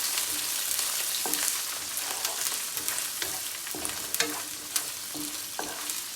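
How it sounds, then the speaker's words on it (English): Sardines sizzle and crackle in hot oil in a frying pan, with steady bright frying noise and occasional stirring scrapes; no voices. "start to frying this one"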